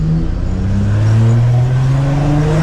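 Engine of a diesel Nissan GT-R under way, a loud, smooth drone with steadily rising pitch as the car accelerates, heard close from inside the cabin with no talking.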